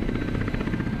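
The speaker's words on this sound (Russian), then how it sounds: "Очень надежный вертолет." A Russian Ka-52 attack helicopter drones loud and steady with a dense, pulsing rotor thrum, heard on its own without talk.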